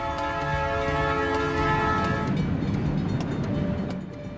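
A freight train rumbles past close by, its horn sounding as a loud sustained chord that cuts off midway, leaving heavy rolling wheel noise and rattling wagons.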